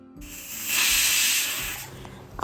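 A pressure cooker of dal and spinach vents steam in a soft hiss that swells to a steady, bright rush in the middle, then fades, close by.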